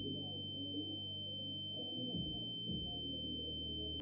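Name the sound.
simulated tinnitus ringing, as heard at a concert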